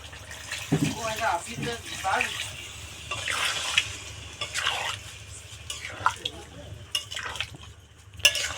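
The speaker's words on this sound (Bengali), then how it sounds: "এবার জল দিয়ে দিচ্ছি" Water poured into a pot of braised hatchery chicken meat, splashing and gurgling liquid sounds with stirring that swell and fade in bursts, heard up close amid a speaking voice.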